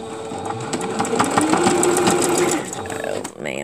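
A sewing machine stitches pieces of a beginner's quilt in a steady, fast mechanical whir close by, running for about two and a half seconds before stopping, with a person talking over it.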